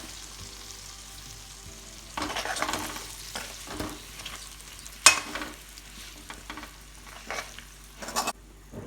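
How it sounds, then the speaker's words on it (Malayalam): Indian gooseberries and chili powder stirred in a pan for a Kerala-style pickle: irregular scraping and clinking strokes over a soft sizzle, close, with one sharp metallic knock midway and no talking. "അതിൻ്റെ പിന്നാലെ നെല്ലിക്ക ഇട്ട് ഇളക്കുക"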